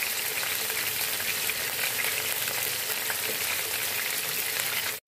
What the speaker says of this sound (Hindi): अब इसमें हम चिकन डालेंगे। चिकन को हमने जब तक फ्राई करना है जब तक इसका कलर चेंज ना हो जाए।